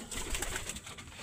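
Pigeons cooing softly while feeding, with several low murmuring coos close by over a busy, rustling background.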